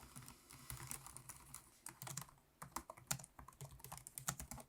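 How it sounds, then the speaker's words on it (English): Rapid typing on the keyboard of a Lenovo Slim Pro 7 laptop with 1.5mm key travel, a quick run of light, snappy, quiet clicks heard close up with no talking. "The keys do feel really snappy, quiet key press."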